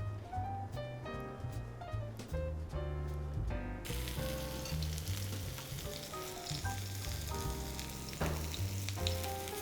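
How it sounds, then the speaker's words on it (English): Steady crackling sizzle of mushrooms frying in a hot pan, loud and close, continuous throughout with no voices. "You can see the mushrooms are sizzling."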